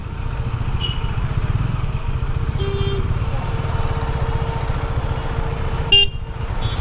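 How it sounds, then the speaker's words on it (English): Car horns honk in congested, rain-slowed Kolkata traffic, several short toots scattered among the steady rumble of nearby engines. "These are the congested roads of Kolkata. Damn, the traffic when it rains."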